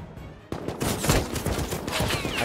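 AK rifle gunfire in the Rust video game comes in a sharp opening crack followed by a dense, rapid run of overlapping automatic shots. It is loud and continuous to the end, with no voices.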